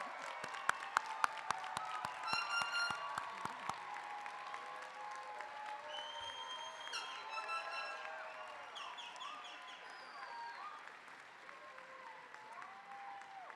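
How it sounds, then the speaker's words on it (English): Applause from the audience at a nursing school commencement ceremony, steady and fairly faint in a large space, with a few sharp claps early on and a cheer or whistle now and then. "You can clap"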